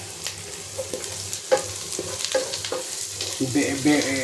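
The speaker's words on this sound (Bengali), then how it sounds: "তেলের পরে দিছি পেঁয়াজ রসুন আর শুটকি" Onion, garlic and dried fish frying in hot oil sizzle quietly while a utensil scrapes and stirs in irregular strokes, close up, with no talking.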